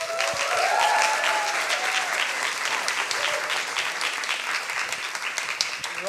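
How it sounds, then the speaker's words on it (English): Steady, dense applause from an audience greeting a speaker at a science slam, continuous clapping at even loudness throughout, with a faint voice briefly audible underneath. "Big applause for Andrew."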